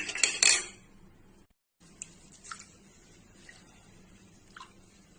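Sloshing water and a clattering bowl sound up front as rice is washed, then a pause followed by soft drips and light clinks in a quiet kitchen.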